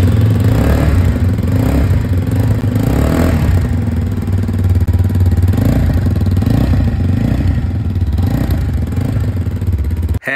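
Taro GP1 V4 FI motorcycle engine running close by, a steady loud rumbling idle with slight rises and dips in throttle throughout.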